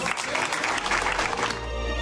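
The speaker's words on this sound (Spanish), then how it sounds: "Un aplauso para ustedes." Crowd applause at a Mexican election-night celebration, a brief burst of dense clapping that fades into a low hum by the end, with no talk over it.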